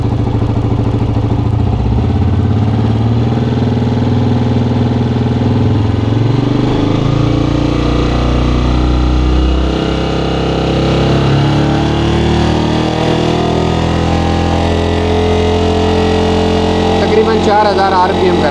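Honda CG 125 motorcycle engine running near and loud throughout during a fuel mixture adjustment, a continuous throbbing idle with slight shifts in pitch and rough patches, under steady talk.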